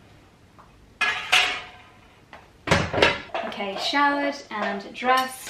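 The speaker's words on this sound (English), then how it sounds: "I apologise for the banging pot noise in the background" Pots, pans and dishes clatter and bang in a home kitchen, loud and close in irregular bursts, while someone talks over the noise.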